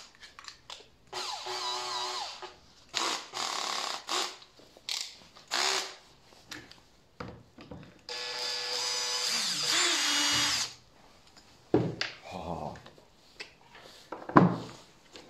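A Makita DDF482 cordless drill driver whirs in repeated bursts of a few seconds each, with gear and ratchet-like clicking between runs, close and fairly loud with short pauses.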